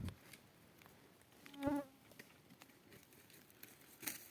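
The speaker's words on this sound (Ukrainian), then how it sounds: "Багато комарів." Mosquitoes buzz in a forest during mushroom picking, mostly a faint background whine with one brief, louder buzz passing close by, then quiet rustling.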